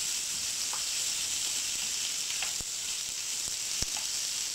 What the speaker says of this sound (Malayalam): അപ്പോൾ സവാള ഇട്ട് കൊടുക്കാം വഴറ്റി കൊടുക്കണം നമുക്ക്